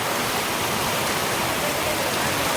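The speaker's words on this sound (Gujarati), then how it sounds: "પવન આવે એટલે વરસાદ આવે." Strong wind driving rain over mango trees, a continuous loud roaring hiss with no breaks, dense and steady like heavy rainfall pounding surfaces nearby.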